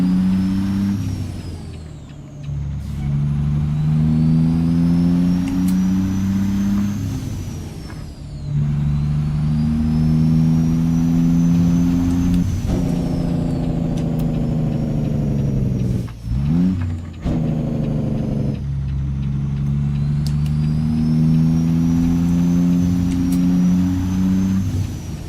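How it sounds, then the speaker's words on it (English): A Caterpillar C15 truck engine in a truck-driving simulator drones and revs continuously, climbing in pitch through the gears with brief drops at shifts and a hiss of air brake midway, loud and steady with no talk. "I think I'm just under revving this C15 a bit."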